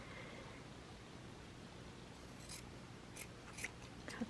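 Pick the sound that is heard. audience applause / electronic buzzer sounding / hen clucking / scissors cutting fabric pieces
scissors cutting fabric pieces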